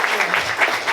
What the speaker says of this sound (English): just applause again for the.